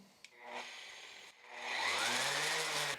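An old electric sander, just fitted with a repaired cord, starts with a click and a brief whir, stops, then is switched on again and spins up to a steady, moderately loud buzzing run.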